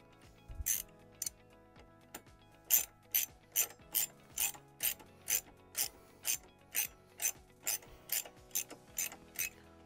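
A ratchet tightens a bolt on a motorcycle luggage mount for a Royal Enfield Interceptor 650, giving a long run of evenly spaced, crisp clicking strokes, close and clear with no talk.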